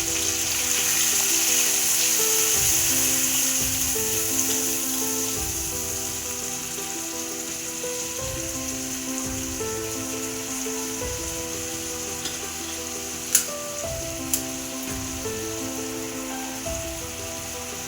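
Ginger paste and coriander-cumin powder fry in a pan with a soft, steady sizzle under prominent background music, with a couple of brief sharp clinks near the end.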